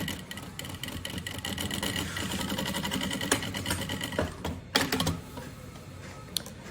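A sewing machine stitches continuously around the edge of a lining on a small backpack pocket, with a steady mechanical whir and clicking, close and fairly loud.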